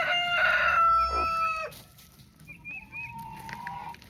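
Backyard chickens at feeding time cluck and call in short, fairly faint bursts over a steady outdoor background hiss, with no talking.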